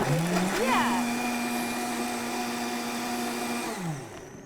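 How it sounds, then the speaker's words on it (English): A kitchen blender whirs through chicken soup vegetables and broth, the motor spinning up quickly, holding a loud steady whine for about three seconds, then winding down. "we're just gonna put it in our blender and then blend it up."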